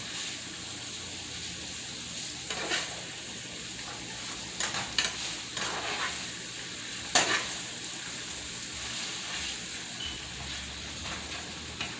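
Ground beef with vegetables sizzles steadily in a pan, with intermittent scraping and stirring strokes from a utensil, fairly quiet and close with no talking.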